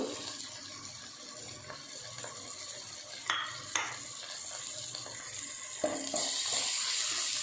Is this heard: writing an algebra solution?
no